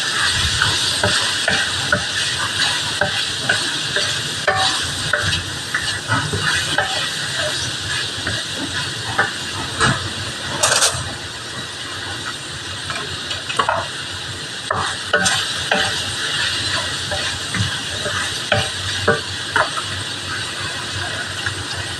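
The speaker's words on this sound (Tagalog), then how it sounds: "Igisa muna natin mabuti" Callos ingredients, including tripe, sautéed in a pan: a steady sizzle with repeated scraping stirs against the pan, continuous and close for the whole stretch, with no voices.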